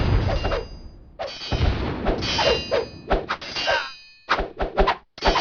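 Troops fighting French arquebusiers in the video game Rise of Nations produce repeated metallic clangs, dings and thuds of close combat in uneven clusters, loud and near, with short gaps between flurries of hits.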